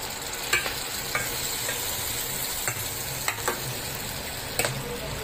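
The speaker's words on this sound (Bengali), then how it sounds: "এবার দেখুন এটা সুন্দর করে মিশে যাচ্ছে এবং একটু বেশ সুন্দর ফুটছে" A fried spice masala simmers and bubbles in a pan after blender-rinse water is added, a steady close sizzle with scattered soft stirring taps, no talking.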